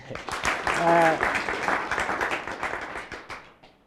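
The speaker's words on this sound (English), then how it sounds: "Let's clap for him" An audience at a talk show on parenting young adults breaks into clapping applause, steady and moderately loud, fading toward the end while a voice speaks over it.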